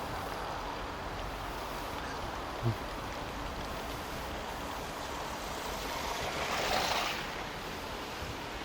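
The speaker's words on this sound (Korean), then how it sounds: "이제 계곡 물소리가 제법 들립니다." Steady broadband rushing of valley stream water flowing near a park path, constant and fairly close, with faint wind noise and no talking.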